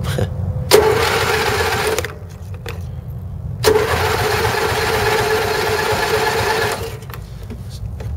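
A 1990 MTD riding mower engine is cold-started twice, each time cranking and catching with a sharp onset into a loud, buzzing, close-up run that cuts off after a few seconds.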